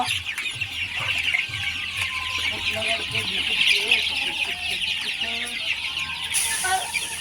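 A flock of chickens on a small home farm, gathering to feed, clucks steadily and densely throughout, close and loud, with overlapping calls forming a busy continuous chorus.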